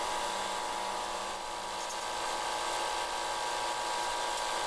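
A drill whirs steadily and loudly without a break, drilling a bolt hole in a Hustler Raptor mower's hydro bracket, a continuous high-pitched grinding noise from start to finish.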